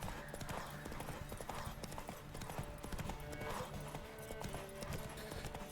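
Horse hooves canter in The Witcher 3 on a road past trees where a hanged man dangles, a steady clip-clop rhythm close up with an occasional whinny over ambient game sound.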